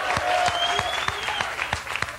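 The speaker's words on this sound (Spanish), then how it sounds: "¡Un aplauso, por favor!" Crowd applause at a live show by Fiskales Ad Hok in 2002, a steady wash of clapping with a few sharper claps standing out, fairly close, with a faint tone lingering underneath.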